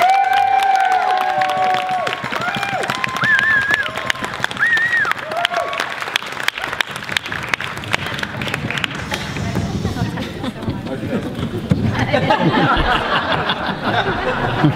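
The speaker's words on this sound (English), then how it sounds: "a big round of applause, please, for our first speaker" Wedding reception crowd clapping and cheering throughout, with whoops and some laughter mixed in, a dense sustained round of applause that swells again toward the end.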